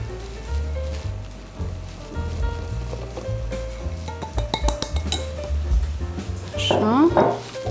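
An electric mixer beats flour into an egg batter in a bowl for a far breton with plums, a low whirring motor hum mixed with clinks and scrapes of the bowl and utensils, rising louder near the end.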